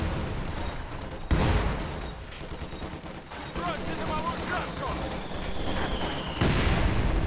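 Machine gun fire in the Company of Heroes 2 video game, repeated loud bursts and booming shots in rapid volleys amid battle noise, with someone talking over it.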